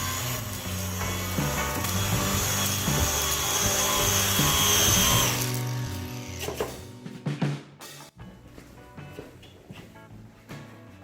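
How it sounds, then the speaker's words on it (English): A soft wire brush attachment scours a wood board to give it a weathered barn-wood look, making a loud, continuous abrasive whirring grind that cuts off partway through, followed by scattered clattering handling noises. "The next attachment we're using is a softer wire brush"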